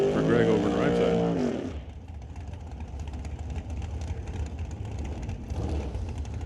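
NHRA drag racing cars roar at a Northwest National Open Series event, a loud, continuous engine rumble with a slight swell near the end, following a burst of announcer talk at the start.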